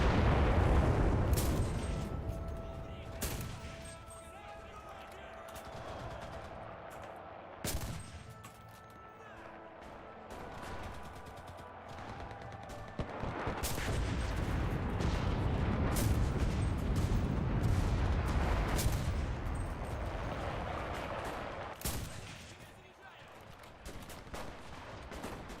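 Rifle gunfire in the World War II shooter Enlisted during a Battle of Berlin match, with repeated sharp shots and distant explosions over a steady rumble of battle, voices faintly present.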